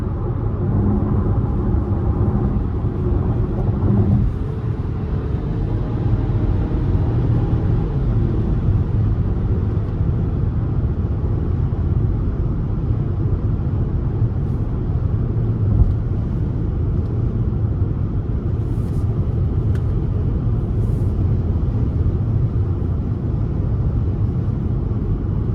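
A 2023 Cadillac XT4 Sport cruising on the interstate, heard from inside the cabin as a steady low road and engine rumble with constant tire drone, smooth and unbroken throughout.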